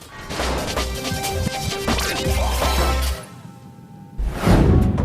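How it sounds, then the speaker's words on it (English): A robot boss's motherboard blows apart in a video game, with a dense run of crashing, smashing bursts and debris, a brief lull, then a second loud blast near the end. "give him that final glorious magic bullet and enjoy the spectacle of his exploding motherboard"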